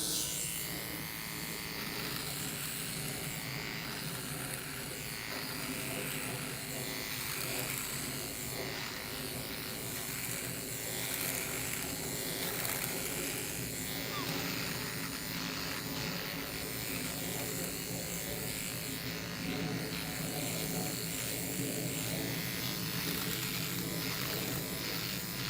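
A Philips OneBlade electric razor shaves continuously, a steady close buzzing drone with slight changes in pitch as it moves over stubble, heard alone without any talking.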